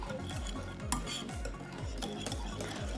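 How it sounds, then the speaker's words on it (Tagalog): Mayonnaise being stirred into a chicken macaroni salad with smoked paprika, salt and pepper, a spoon scraping a bowl in a steady rhythm of repeated low sweeps with an occasional light clink, close and continuous. "Ang sunod nating ihahalo ay yung mayonnaise."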